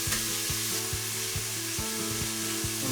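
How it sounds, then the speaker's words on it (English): Onion, garlic and ginger fry in a pot for a vegan lentil curry, giving a loud continuous sizzle with regular knocking stirs throughout. "So give the onion a little stir, and then in a moment we can add garlic"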